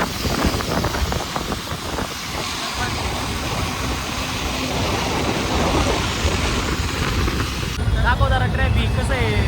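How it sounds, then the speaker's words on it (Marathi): Heavy rain pours onto a road in a steady, dense hiss that lasts throughout, with traffic noise mixed in and voices heard faintly under the downpour. "कसा आहे पाऊस."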